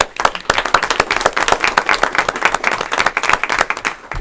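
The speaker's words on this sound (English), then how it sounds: "I'd like to give a round of applause to the parents." Applause for parents at a school board of education meeting: a room of people clapping steadily and fairly close, with sharp individual claps standing out across the whole stretch and no talking over it.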